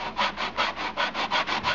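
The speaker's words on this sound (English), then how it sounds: "I try and keep the sandpaper over just the work area, trying not to sand any of it outside" Sandpaper rubbed back and forth on the wooden side of a model airplane fuselage (a Flitzer), close and steady, about eight even scraping strokes with no talk.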